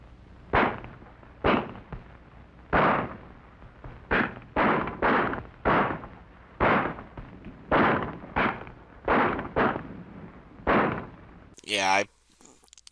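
Pistol shots ring out in a film scene, about fourteen sharp, loud bangs in an irregular volley, some fired in quick pairs and others spaced apart.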